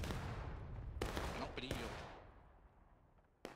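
Rolling musket volleys crackle across a large American Civil War battlefield in War of Rights, with several sharp bursts standing out over continuous distant gunfire and a voice talking throughout.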